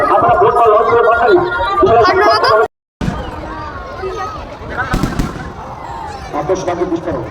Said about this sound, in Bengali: আতশবাজি বিস্ফোরণ